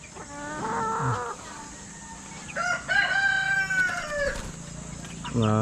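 Chickens on a small Filipino minifarm crow and cackle loudly in repeated bursts, with a rooster's cock-a-doodle-doo standing out over a low background hum.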